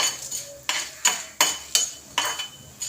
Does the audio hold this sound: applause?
no